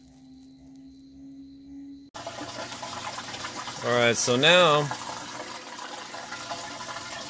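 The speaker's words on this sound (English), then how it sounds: "It's the first time it's drained the water out." A Maytag Bravos XL washing machine pump drains water in a steady rushing hum, with a brief voice speaking at the start and a louder gurgling surge midway.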